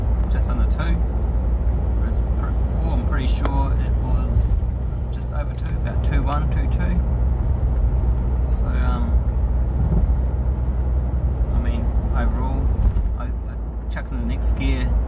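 A car with a 1KZ-TE engine accelerates, a steady low engine drone with road noise running under nearly continuous talking from inside the cabin.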